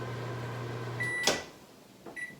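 A microwave oven hums steadily while heating a cheese wrap, then its run ends with a sharp click or beep and a brief later clatter, close and moderately loud.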